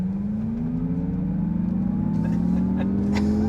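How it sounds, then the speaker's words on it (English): A 2024 Acura ZDX A-Spec electric SUV accelerates hard, a loud, steady rising motor whine and road roar heard from inside the cabin, climbing in pitch over a few seconds. "we're going to go ahead and get a hard acceleration here"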